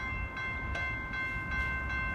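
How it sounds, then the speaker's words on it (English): An outbound Metra 212 express commuter train rushes through Riverside, Illinois station without stopping, a steady loud rumble of passing cars with sustained horn-like tones over it. "The next Metra train approaching your station will be a Metra Express train and will not stop."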